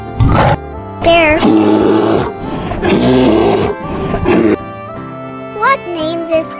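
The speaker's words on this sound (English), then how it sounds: "Bear." A bear gives loud, rough growling roars in several bursts across the stretch, with a quieter stretch of background music before a few shorter grunting calls at the end.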